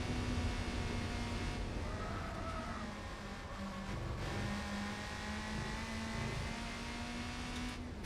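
A Mazda Miata in Gran Turismo 4 revs steadily, its engine note droning and shifting pitch as the small car is thrown around the track, with no talk over it.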